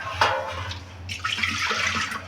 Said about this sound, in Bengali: এবার আমি ডালটা দিয়ে দিলাম, দিয়ে আর একটু জল দেবো